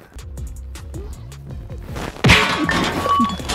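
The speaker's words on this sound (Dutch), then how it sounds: "Lars, heb je wat te zeggen tegen mijn moeder, wat je haar vaas hebt aangedaan of niet?" A porcelain vase falls and breaks with a sharp crash midway, followed by scattering debris, after a stretch of lighter knocks and movement.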